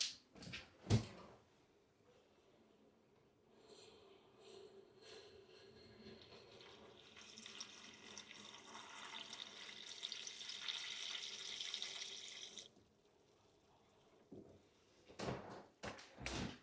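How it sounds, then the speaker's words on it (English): Tap water runs steadily into a bowl of overnight oats, a broad rushing stream lasting several seconds after a sharp knock and brief clatter, then stopping before more faint handling noises. "So now what I'm gonna do is I'm just gonna fill this up with water."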